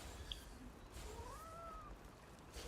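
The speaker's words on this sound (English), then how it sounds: "My cat has just come in and they don't look very happy." A pet cat gives a single drawn-out meow, faint and mid-distance, rising then falling, over a low room hum.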